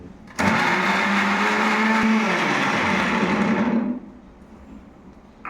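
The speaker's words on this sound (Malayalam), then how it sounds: "നമ്മൾ മിക്സിയിലിട്ട തക്കാളി അടിക്കാൻ പോകുന്നു" A kitchen mixer grinder blends tomatoes for an okra pickle, its loud steady whir filling most of the moment before cutting off and winding down to quiet near the end.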